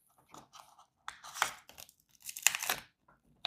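A packet of crackers from a 44-year-old 1982 Menu 12 MRE is torn open in several crisp bursts of ripping and crinkling packaging, close up with short pauses between them.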